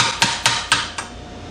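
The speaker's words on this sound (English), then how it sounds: "Let me take their little hammer here and tap the welds, see if there's any." A small hammer taps freshly MIG-welded steel four times in a steady rhythm, each strike a sharp, close metallic tick with a brief ring, welded with an ArcCaptain MIG145 Pro.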